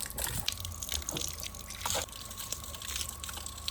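Spring water running from a tap in a continuous, close splashing stream, with bright dripping and gurgling that stays steady throughout.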